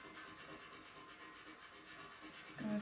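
Pastel stick rubbing steadily across paper while a cat drawing is filled in, a soft continuous close scratching with a slightly louder stroke at the end.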